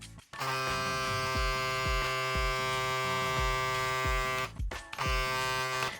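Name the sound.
vector motor electric shaver running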